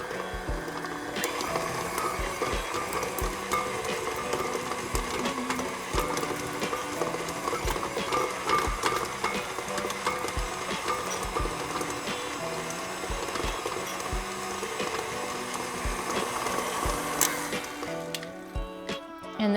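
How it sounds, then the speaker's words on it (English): A KitchenAid stand mixer creams a stick of room-temperature butter, its motor whirring steadily with a mechanical hum and rhythmic clunking ticks throughout, moderately quiet and close, stopping abruptly near the end. "Then I have my KitchenAid stand mixer."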